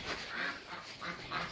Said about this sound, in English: They're quacking and quacking and quacking.